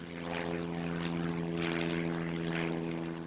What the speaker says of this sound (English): Many of them arrive on their corporate jets at the nearby Sonoma County Airport.